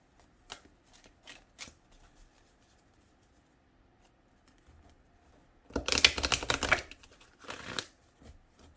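Oracle cards being shuffled during a tarot-style reading, a few soft riffles first, then a louder close burst of rapid card flicking and a second short shuffle, with no talk.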